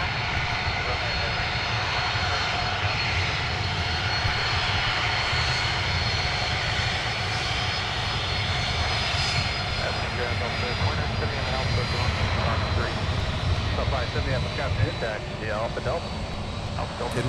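A United airliner takes off from runway 12 right at Minneapolis-St. Paul airport, its engines a loud, steady roar throughout, with voices and radio chatter running under the noise.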